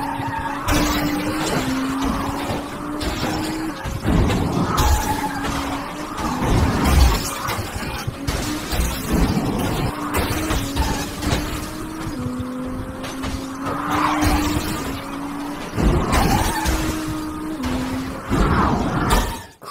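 Racing cars in the VR game Burnout roar and whine at high speed, with engine pitch rising and dropping through gear changes, tyre squeals and skids, and a crash near the end.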